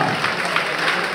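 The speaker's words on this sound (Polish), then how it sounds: "Szymon Jaszkowiak, wielkie brawa!" Applause for the winner of a grappling match, a steady crowd clapping at fair volume for just over a second with no clear voices.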